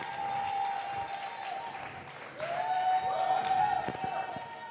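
A crowd at a church gathering claps and cheers continuously, and the sustained roar swells louder partway through while a faint tone holds underneath.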